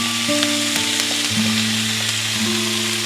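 Telagapindi leaves sizzle and crackle loudly in hot oil in a pan for chutney, with a continuous frying hiss and occasional stirring clinks, and no voices.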